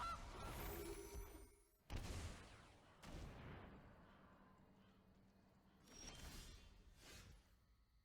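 The Gilded Goose card in the MTG Arena video game plays a goose honk effect, a few loud squawks with sharp bursts between them and no voices.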